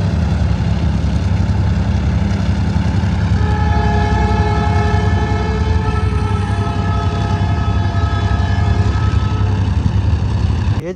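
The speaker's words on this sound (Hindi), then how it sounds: "ये जो आपको इस वक्त आवाज़ आ रही है ये ट्रेन गुजर रही है" A train rolls past close by with a loud, steady rumble and clatter that fills the whole stretch, with a drawn-out horn-like tone running through it and no talk.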